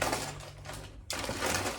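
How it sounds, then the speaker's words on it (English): A plastic package bag is cut open, a soft rasping, buzzing cut that runs for about a second, breaks off, and then resumes briefly with a crinkly texture. "So, when we cut the bag open."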